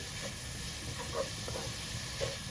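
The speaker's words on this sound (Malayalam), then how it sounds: "നോൺ സ്റ്റിക്ക് പാൻ ആയാലും നമ്മൾ ഇടയ്ക്കൊന്ന് തുറന്ന് ഇളക്കി നോക്കണം" Chopped banana flower sizzles softly in a non-stick pan while it is stirred, a low continuous hiss with a few faint scraping touches and a small clack at the end.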